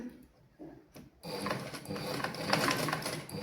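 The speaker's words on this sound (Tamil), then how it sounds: "நாங்கள் இந்த வளைவு பகுதி தைக்க வேணும்" A sewing machine stitches a curved fabric section: a few faint clicks and handling sounds, then the machine runs continuously with a close, steady mechanical whir.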